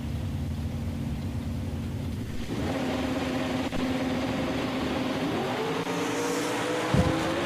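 Drag racing at Woodburn, Oregon, with a 1963 Corvette Roadster and a Trans Am, engines droning loud and steady, then rising in pitch as revs build, with a sharp thump near the end.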